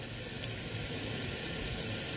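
Tofu dropped into a frying pan of cooked string beans, sizzling in a steady, continuous hiss close by without a break, with no talking.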